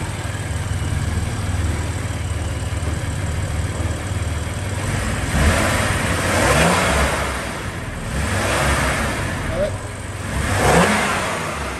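A BMW M3/M4 engine fitted with a VRSF front-mounted intake revs in several swelling bursts over a steady idle, with people talking nearby.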